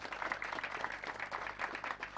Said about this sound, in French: Samba Diallo, qu'on applaudit s'il vous plaît.